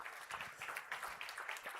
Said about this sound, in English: Please, one more round of applause for the people tech category.